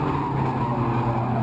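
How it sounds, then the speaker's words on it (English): Race cars at Franklin County Speedway roar steadily in a continuous, loud engine drone with tire noise, with no talk over it. "This weekend's racing at Franklin County Speedway was packed full of door-to-door action."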